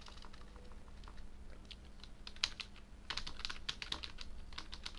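Quiet, close keystrokes come from a computer keyboard as a Laravel controller command is typed. The tapping is irregular and soft, with small bursts of quicker clicks over a low background hum, and no talking.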